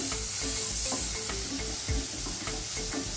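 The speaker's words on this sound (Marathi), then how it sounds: "आता हे सर्व चांगले मिक्स करून घेऊया" Onion, chopped tomato and ground masala paste being stirred in a hot pan, giving steady frying sizzle with repeated scraping strokes of the spoon, close and alone.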